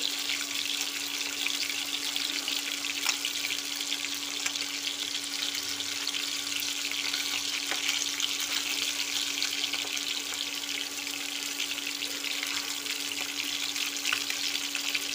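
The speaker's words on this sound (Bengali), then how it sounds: "মাছগুলো 1 পিঠ হয়ে গেছে ভাজা," Pieces of rui fish frying in a pan, a steady, even hiss of hot oil that runs unbroken through the whole stretch at a moderate level, with no talk over it.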